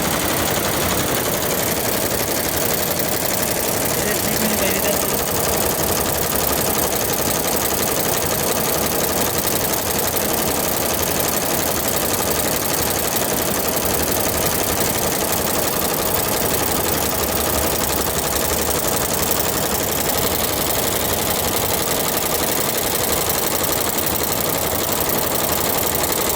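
An embroidery machine stitches a multicolour design in a continuous, dense mechanical whir that stays steady and loud throughout, with no talking over it.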